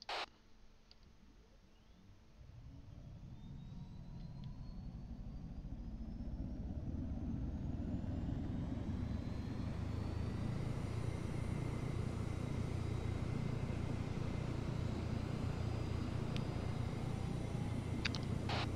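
A VTOL aircraft's engines spin up during training, a low rumbling roar rising from a quieter start and then holding steady and heavy, with a faint whine climbing above it.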